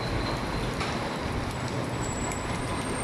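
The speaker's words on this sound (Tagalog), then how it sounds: "grabe yung hagos ng hangin, oh" Strong typhoon wind roars steadily in a dense, unbroken rush, loud and close throughout.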